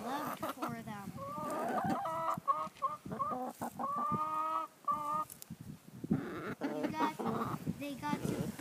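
Chickens clucking and squawking in a flock, with repeated nasal calls overlapping and close to the microphone, a person talking among them.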